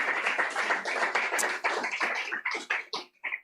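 Audience applause after a poetry reading at a Southern California poetry festival, close clapping that starts dense and breaks into fewer scattered claps as it dies out.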